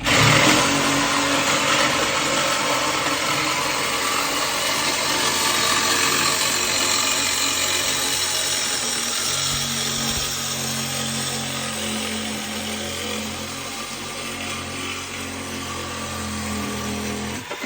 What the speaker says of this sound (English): you can see where I cut the catalytic converter off right here